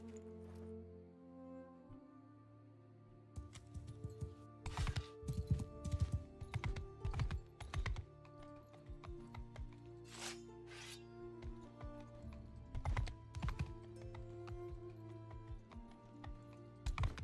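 Horse hooves clip-clopping in Mount & Blade 2: Bannerlord, irregular sharp hoof strikes at a walking-to-trotting pace over a low game ambience, moderately loud throughout, no voices.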